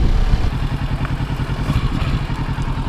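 A motorcycle ridden on the road in Tallahassee gives a loud, steady, close engine rumble with a low throbbing pulse and light mechanical clatter throughout, with no talk.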